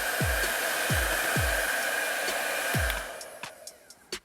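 A small hair dryer on high blows steadily with a broad airy hiss, accompanied by several low thumps, before switching off and falling quiet with a few faint clicks.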